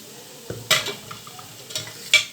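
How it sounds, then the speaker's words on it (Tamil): Onions fry until golden in a pan, a gentle close sizzle punctuated by several sharp utensil clinks and scrapes against the pan as they are stirred, without talk. "வெங்காயம் பொன்முருவலாக வந்துருச்சு."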